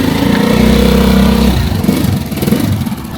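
A RUSI Chariot 175 motorcycle engine runs close by with a steady low drone, then the pitch drops and the running turns rougher and uneven.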